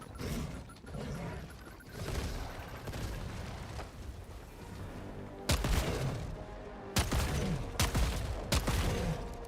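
Gunfire from a weapon in the Helldivers 2 game: a dense rattle of shots and mechanical clatter, then several sharp, loud bursts near the end.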